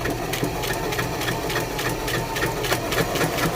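A JUKI HZL-355ZW-A sewing machine runs steadily under foot-pedal control, a continuous close mechanical whirr with fast needle rattle, no talking.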